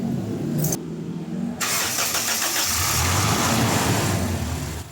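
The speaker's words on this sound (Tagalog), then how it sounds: "napa-start ko na itong makina" A Toyota Innova engine with an overheating radiator and a gasket oil leak cranks, goes quiet briefly, then catches and starts, settling into a loud, steady near running sound with no talking.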